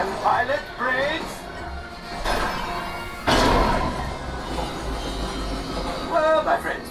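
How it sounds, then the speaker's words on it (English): Rumbling passing train effect inside the Star Wars Millennium Falcon: Smugglers Run ride, a broad roar and rattle building midway beneath ongoing talk and ride audio. "There it is. After that train."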